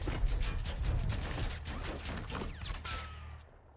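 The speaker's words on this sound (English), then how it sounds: "Where is he shooting from?" Gunfire in the Warzone video game: a dense, rapid fusillade of shots rattling steadily for a few seconds, loud and close, then quickly fading out.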